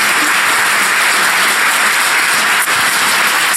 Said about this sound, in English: Okay, clap